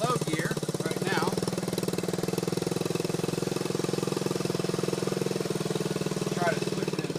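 A 1977 Honda CT90 trail motorcycle runs in low gear, its small engine putting out a steady, rapid, buzzing putter at close range. Brief whistling or squeaking sounds come through now and then, and a voice talks over it at times.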